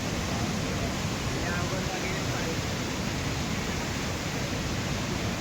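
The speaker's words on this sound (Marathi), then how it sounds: "दगड आणि पाण्याचा फ्लो बघा" A mountain river near Badrinath rushes over rocks, a loud, steady roar of broadband water noise filling the whole clip without letting up.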